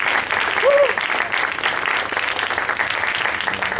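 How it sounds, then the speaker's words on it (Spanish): Audience applause after a talk given in San Antonio, a full, even round of clapping throughout, with a brief whistle or voice rising over it early on. "Un aplauso para Juan Carlos."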